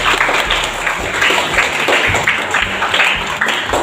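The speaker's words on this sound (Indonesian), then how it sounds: "Tepuk tangan buat kita semua ini." A group claps together for everyone during an Indonesian school or training session, a brisk, uneven patter of hands at moderate loudness that continues throughout.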